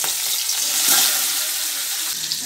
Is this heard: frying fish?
yes